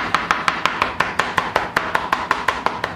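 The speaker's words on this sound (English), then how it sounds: "Okay, so now I'm just gonna slice it" Knife slicing an onion on a cutting board, about sixteen crisp, evenly spaced chops in a quick steady rhythm, close and loud with no talking.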